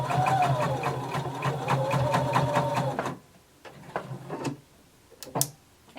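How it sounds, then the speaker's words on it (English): Sewing machine stitching slowly over a thick belt loop, a rapid, even clatter of needle strokes for about three seconds, then stopping, followed by scattered soft clicks and handling sounds. "I want you to go back and sew over it again"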